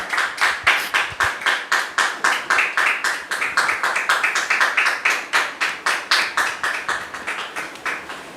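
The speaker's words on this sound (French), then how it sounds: "M. Germain Onokpo et sa fille Samira Kwadjo, que nous recevons sous vos applaudissements." Applause from the audience at a wedding reception, a steady run of sharp, rhythmic claps that swell and ease in waves, close and fairly loud for about eight seconds with no talking.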